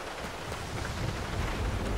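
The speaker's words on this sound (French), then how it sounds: "Oh, l'orage." A thunderstorm in Grand Theft Auto IV gives a low rolling rumble under a continuous wash of rain and wind that builds slightly toward the end.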